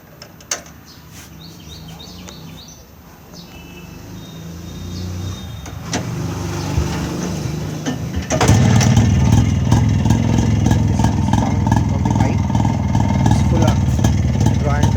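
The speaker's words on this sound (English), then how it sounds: "Wait, I am starting the bike." A 1977 Rajdoot 175cc motorcycle fitted with a Royal Enfield silencer starts up after some background noise and faint birdsong, then settles into a loud, steady, rumbling idle that stays close.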